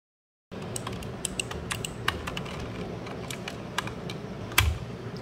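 Keys are tapped and plastic clicks on a mechanical keyboard while its spacebar keycap is pulled off, with scattered sharp clicks and a louder pop near the end as the cap comes free.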